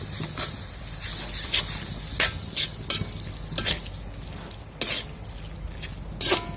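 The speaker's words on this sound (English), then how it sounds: "Mix them well." Fettuccine being stirred through a creamy sambal tempoyak sauce in a pan over a lowered flame: a steady sizzle broken by repeated scraping and splashing strokes, close and fairly loud.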